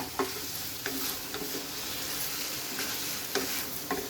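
Onions and tomatoes sautéing on low heat in a pan for potato paya, a continuous soft sizzle broken by regular scraping stirs of a spoon, close and with no talk.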